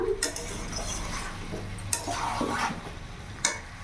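Chicken with papaya and potato sizzles steadily in a pan while a spoon stirs and scrapes, with a few sharp utensil knocks against the metal.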